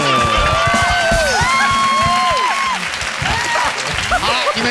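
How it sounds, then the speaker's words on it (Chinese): Audience applause with cheering and shouts from a crowd at a lively stage show, dense and continuous throughout, with excited voices rising over the clapping. "掌声鼓励。"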